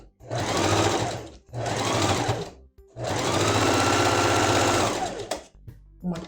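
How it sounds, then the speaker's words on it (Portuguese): Domestic sewing machine stitching a seam along the edge of a fabric pot holder, running in three steady close bursts, a short one, another short one and then a longer run, with brief pauses between them. "uma costura de um lado"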